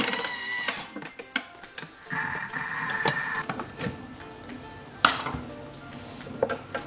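Thermomix TM5 food processor whisking Easter cake batter with butter at speed 3, no heat: a mechanical whir with rattling, clinking strikes and a sustained whine, moderately close, irregular knocks throughout.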